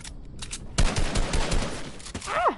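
Rapid video game gunfire crackles in a dense burst of close shots, with a faint rising tonal effect near the end.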